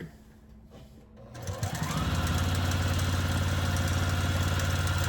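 A sewing machine runs steadily and loudly, stitching the seam of a diagonal-stripe quilt block with white thread, starting after a brief quiet moment and then holding a continuous whirring motor hum to the end.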